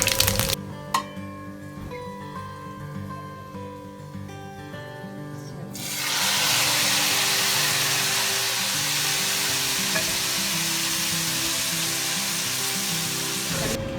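Loud, steady sizzling of hot tempering oil poured into a pot of Lahori kari curry, a continuous crackling hiss that swells suddenly and stays strong, with faint clinks of utensils before it.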